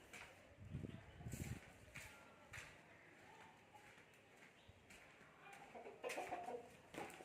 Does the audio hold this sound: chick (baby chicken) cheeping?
yes